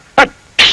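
A short, sharp burst of breathy noise followed by a second, longer explosive blast, like a quick two-part sneeze heard up close, from the animated character Mr. Noisy.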